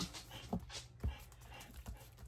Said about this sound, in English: Can you hear her panting?